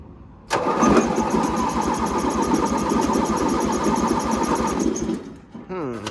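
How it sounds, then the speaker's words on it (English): An 18HP MTD Yard Man hydrostatic riding mower, found in a barn, cranks on choke with rapid, even starter pulses for about four seconds, then stops. A brief voice-like tonal sound follows at the end. "let's try giving it a start while there's a lot of gas at the carb"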